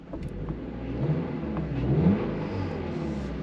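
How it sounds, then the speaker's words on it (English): A 2024 Toyota GR86 engine revs in track mode, a steady mid-pitched drone climbing in pitch toward the two-second mark before settling, heard up close and alone. "Let's press the track button and see what happens. And you can see how the RPMs go up."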